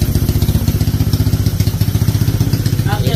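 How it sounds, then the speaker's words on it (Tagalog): A Honda Click or Vario scooter engine idles while warming up, a steady close putter with rapid regular firing pulses and a light mechanical clatter throughout. "papainit muna tayo ng makina"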